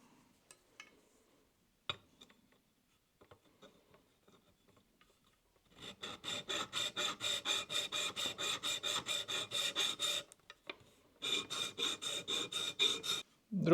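Scissors blades being sharpened: after a quiet stretch of faint clicks and taps, a fast, even run of close rasping strokes begins, pauses briefly, then continues at the same brisk rhythm.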